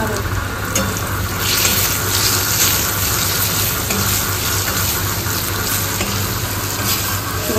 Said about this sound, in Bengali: আলু ভাজার পরে স্বাদমতো নুন আর সামান্য হলুদ দেওয়া হলো